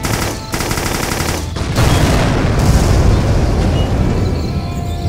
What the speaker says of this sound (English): Seriously, did a tank just explode?